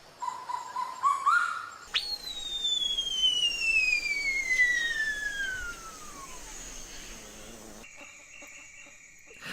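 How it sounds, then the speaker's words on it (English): A loud, piercing rainforest bird call sweeps downward in a long whistle, followed by rising chirps over a dense, buzzing forest backdrop. "birds that live in rainforests have to call very loudly"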